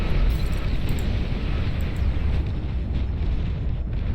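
A nuclear blast in the strategy game Beyond All Reason roars as a dense, continuous explosion rumble, loud and sustained without a break.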